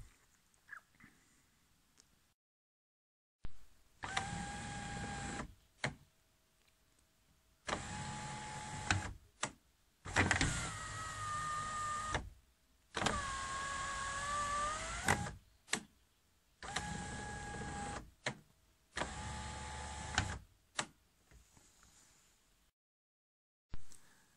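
An electric sunroof motor on a Peugeot 306 whirs in several separate runs of a few seconds each, with short pauses and clicks between them.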